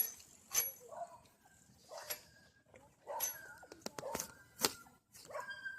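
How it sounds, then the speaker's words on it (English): A dog barks and yips in short repeated bursts at a moderate distance during a bike ride, with irregular spacing and some softer whimpering sounds between the barks. "One dog has approached"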